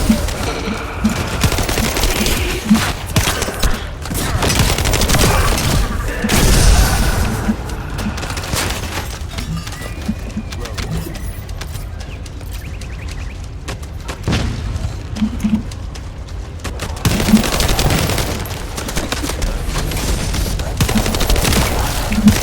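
Heavy combat in The First Descendant video game, a dense barrage of gunfire and booming explosions rolling loudly and continuously throughout, with bursts swelling and easing but never stopping.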